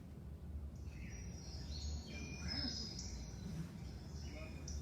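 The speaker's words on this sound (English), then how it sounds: "How many different birds can you catch?" Several birds chirp and sing at moderate distance over a steady low outdoor rumble, with calls overlapping throughout.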